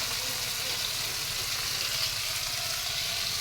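Okra (bhindi) coated with salt and chili powder fries in oil with a dense, loud, continuous sizzle and hiss that stays steady throughout.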